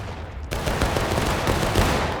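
Musket volleys crack out in War of Rights after a short quiet lead-in: a dense, loud burst of overlapping shots that keeps rolling on as a ragged fusillade.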